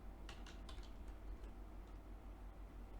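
Soft keystrokes tap out a terminal command on a computer keyboard in a quick irregular run, faint and close with a low background hum, no talk.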